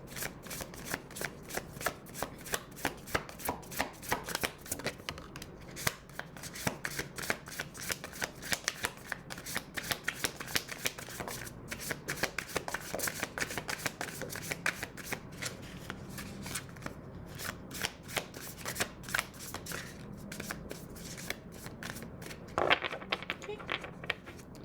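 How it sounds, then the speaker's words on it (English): A deck of tarot cards is shuffled by hand over and over, a steady riffling patter of close, crisp card flicks with a little talking under it. "couple more shuffles."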